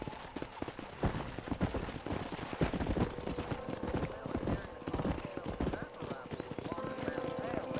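Horse hooves clip-clopping in a Red Dead Redemption game scene, a quick galloping rhythm of hoofbeats with a brief whinny, a few distant gunshot-like cracks and game sounds mixed in, moderately loud.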